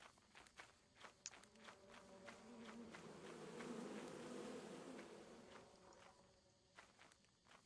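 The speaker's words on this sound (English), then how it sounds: "Of course there's bees." Faint buzzing of bees in the video game Lethal Company, a soft drone that swells in the middle, with light footsteps tapping throughout.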